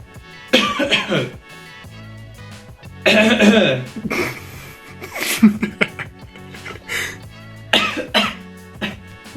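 Someone coughs repeatedly in short, harsh bursts separated by pauses, close and fairly loud, with a bit of throat clearing mixed in.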